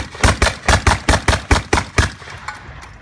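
A crank-driven Gatling gun fires about nine loud, evenly spaced shots in steady rhythm, each one sharp and booming, then the firing stops.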